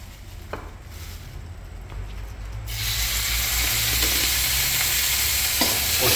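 Chili garlic paste hits hot oil in a pot, bursting into a loud, close, continuous sizzle after a quieter start with a few light clicks.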